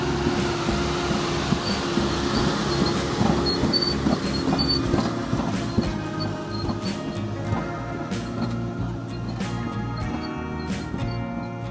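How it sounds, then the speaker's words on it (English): A heavy Vale industrial freight train with a powerful engine rumbles past at a steady, low roar, with rhythmic clanking and rattling of a long chain of wagons over the constant drone. "The Vale train, for example, moves with a powerful engine that hauls a seemingly endless chain of carriages."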